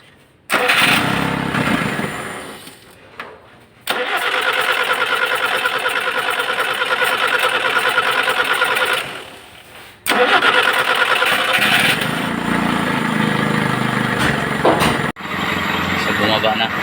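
A motorcycle engine starts up after carburetor work and runs loud and close, surging and revving unevenly. It dips twice, once nearly dying before picking back up, then keeps running.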